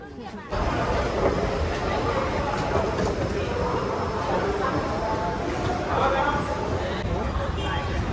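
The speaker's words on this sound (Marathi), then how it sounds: "हा बघा असा आहे हजरत निजामुद्दीन रेल्वे स्टेशन दिल्लीचा" Busy Hazrat Nizamuddin railway station in Delhi, with a steady rumble of a train and a wash of crowd chatter throughout, fairly loud and continuous.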